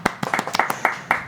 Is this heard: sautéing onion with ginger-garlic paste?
no